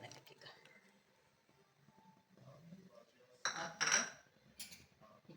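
Ghee, fried raisins and cashews going into vermicelli payasa, with faint spoon scrapes building to a pair of sharp metal clinks of utensils against the pot, under quiet talk.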